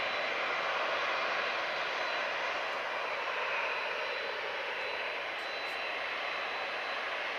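An Etihad Boeing 787 Dreamliner at Manchester Airport, a faint, distant, steady jet-engine hiss and rumble that stays even throughout with no voices.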